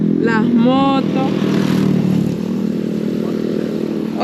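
Motorcycle engines rumble past up close, with a short voice-like call near the start over the steady engine noise.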